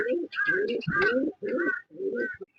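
Fancy fantail pigeons feeding their chick give soft, throaty coos close by, delivered in a string of short bursts with brief pauses between them.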